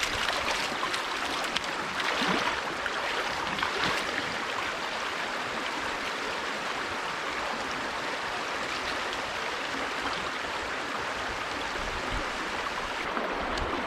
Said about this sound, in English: Right, well I think we'll give the blue sluice a clean out.